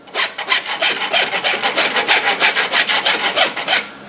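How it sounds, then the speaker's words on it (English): A rasp filing steel blacksmith tongs, fast rhythmic back-and-forth strokes of about four per second, close and gritty, with no talk. "That's my first order of business in my rasping process of the tong."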